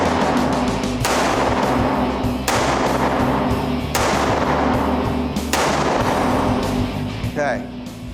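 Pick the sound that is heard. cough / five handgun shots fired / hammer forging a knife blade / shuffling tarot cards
five handgun shots fired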